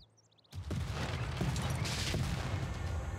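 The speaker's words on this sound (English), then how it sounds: "And he brought like 16 more field cannons to bear on me." Field cannons fire in a volley in the video game Civilization 6, a sudden loud barrage after a quiet start, with booming shots and crashing impacts continuing in a dense rolling stretch.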